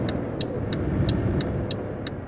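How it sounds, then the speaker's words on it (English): A Volvo truck engine in Euro Truck Simulator 2 drones as a steady low rumble, driven in a low gear, with a faint repeating high tick about every third of a second. "Oh, the actual driving noise has changed."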